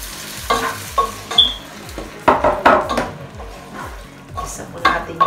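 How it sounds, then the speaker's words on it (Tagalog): Mung beans being sautéed in a pan with crushed tomato for Bisaya-style ginataang munggo: soft sizzling under repeated scraping and clinking of a utensil against the pan, in irregular stirring strokes. "Ayan po, gigisa po natin yung munggo."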